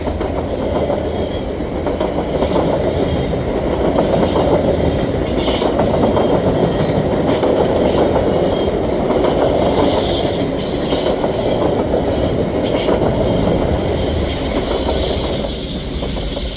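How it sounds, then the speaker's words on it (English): A long Via Rail LRC passenger train passes close by at Argenson Park on an evening, its steady wheel rumble and clickety-clack rolling loud and continuous, with occasional wheel squeal and hiss above it. "Via train here at Argenson Park."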